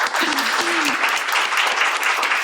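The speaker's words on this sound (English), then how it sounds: "Can we please give her a round of applause?" An audience at an evening talk event applauds loudly and steadily for a couple of seconds, with a speaking voice briefly heard over the clapping at the start.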